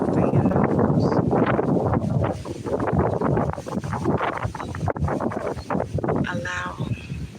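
Wind blows steadily past a tree outdoors, a loud buffeting rush into the microphone with shifting gusts, continuous throughout, with a voice speaking softly over it.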